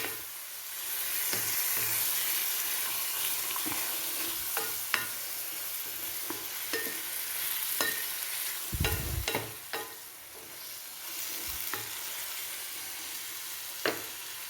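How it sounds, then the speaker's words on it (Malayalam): A pan of lemon curry sizzles and hisses steadily while a spoon scrapes and stirs through the thick food with intermittent clinks and knocks. "ഒന്ന് ഇളക്കി വേവിക്കാം."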